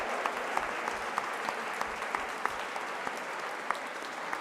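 Steady applause from an audience at a live International Day of Peace event, a continuous wash of many hands clapping with scattered sharper claps, fairly even in loudness and somewhat distant.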